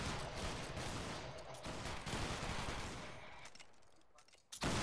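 A line of soldiers fires a musket volley in Battlegrounds 3, a dense crackling fusillade of overlapping shots over a battlefield din that fades toward the end before a final sharp burst.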